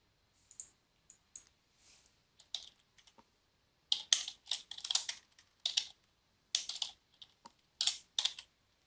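Keystrokes on a computer keyboard while entering names for text box and button controls in a low-code OPC client tool, coming in scattered single clicks and then dense quick bursts, close and clear with no talking.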